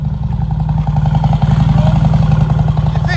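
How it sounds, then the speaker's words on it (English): A moped engine idles and putters steadily just outside, with an even, rapid mechanical pulse that stays at a constant, fairly loud level. "Someone's just rocked up outside on his moped."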